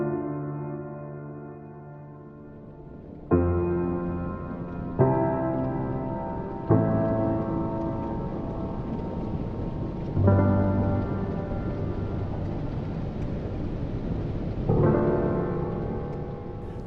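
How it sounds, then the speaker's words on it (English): Rain from a Soundpaint sampled instrument, played as held keys that fade in with gradual swells, mixed with low tonal chords that change every few seconds; a steady wash of rain and rumble with no voices. "So when I hold down the keys, the rain is gradually gonna fade in."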